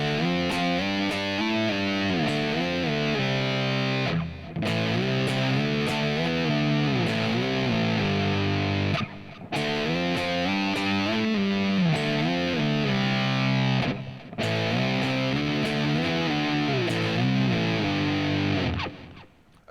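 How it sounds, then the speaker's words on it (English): Distorted electric rock guitar playing power chords with sliding pitch moves, loud and continuous in three repeated phrases separated by brief pauses, with no talking. "I'm going to do the exact same rhythm as the double stop slides, except I'm going to use power chords"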